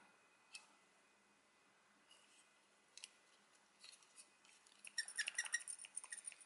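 A small plastic toy summoning key from a Lava Armor Hero set is handled quietly, with faint clicks and rubbing that build into a cluster of sharp squeaks near the end.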